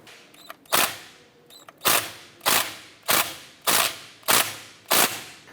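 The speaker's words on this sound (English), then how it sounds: "We're going to use a 10mm socket." A ratchet with a 10mm socket loosens a brake bleeder screw on a 2008-2012 Honda Accord: seven sharp, close metallic clicks at a steady, even rhythm, with no talking.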